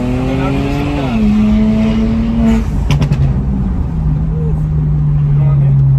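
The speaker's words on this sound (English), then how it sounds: "I'll give it like some backfires and then I'll give it like gas" A twin-turbo car engine idles and revs with a few sharp backfire pops in the middle, the steady rumble staying loud and close throughout while a person talks over it.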